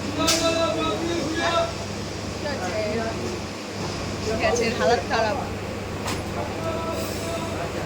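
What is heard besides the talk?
train interior while riding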